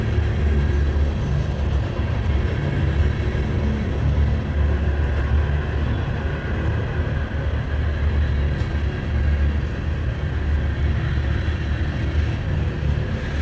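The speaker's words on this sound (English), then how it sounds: "Man, this train's so quiet, it's almost like it ain't even going by" A long Norfolk Southern freight train rolls past with a steady, subdued low rumble and faint rail noise that holds evenly throughout, with no voices.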